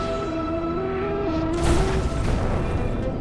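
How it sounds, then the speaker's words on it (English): A bomb detonates just above the surface of a roughly 100-meter asteroid in space, a deep, muffled boom swelling in suddenly partway through and rumbling on beneath a sustained musical drone. "the explosion has made a dramatic crater and nothing else"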